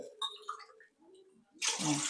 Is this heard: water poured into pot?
yes